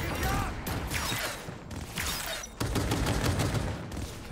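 Pistol gunfire in the Cyberpunk 2077 Phantom Liberty video game, a rapid series of sharp, loud shots in quick bursts separated by brief pauses, with mechanical clatter between volleys.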